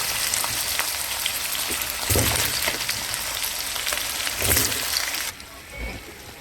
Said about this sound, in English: I'm gonna add the potato.